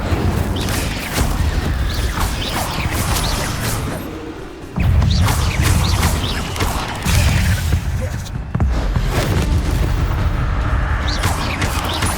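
The Incendio fire spell is cast during Hogwarts Legacy gameplay: loud roaring whooshes and booming bursts of magic, with brief drops in between, over dense game noise and music.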